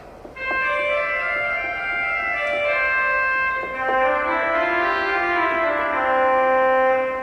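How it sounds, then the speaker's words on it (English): A pipe organ trumpet reed stop sounds a sustained, bright, buzzy tone, holding chords for several seconds, shifting notes partway through, loud and steady with no talking. "This is what a trumpet stop sounds like."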